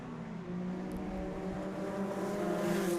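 Race cars at a club circuit race hold a steady, droning engine note while passing through Campion Corner, heard from a distance and rising slightly in loudness toward the end.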